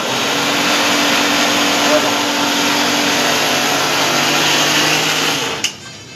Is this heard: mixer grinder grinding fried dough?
yes